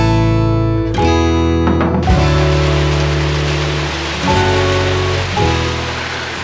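Rain falls during a ride on a Honda CB500X motorcycle: a dense, loud hiss of rain and wind over a steady engine drone that changes pitch a few times, with no talk.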